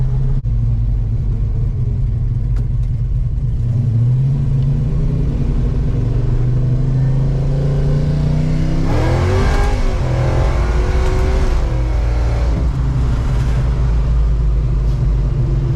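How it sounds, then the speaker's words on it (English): A 1968 Dodge Charger's engine revs loud and close, rising through the gears as worn tires spin on dry winter streets, with a surging roar in the middle. "It was laying waste to those tires all the way into third."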